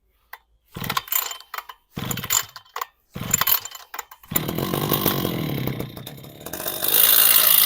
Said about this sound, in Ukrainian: Підкачали паливо, вмикнули підсос, поставили запалення і спробуємо заводити.